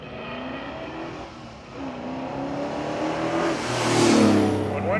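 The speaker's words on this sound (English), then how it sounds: "The little Chevy 2 yellow car versus the big Cheyenne pickup truck." Engines of a small yellow Chevy II Nova and a large Chevrolet Cheyenne pickup drone and rev at a dragstrip reunion, a loud, steady rumble with rising pitch that builds toward the end.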